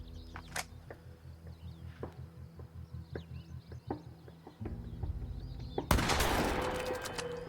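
Rapid gunfire from The Quarry's nighttime werewolf hunt, a steady run of sharp shots over a low rumble, ending in a loud noisy blast that trails off.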